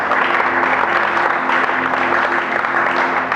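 Church congregation applauding and cheering in a continuous, dense wash of clapping that stays loud and steady throughout.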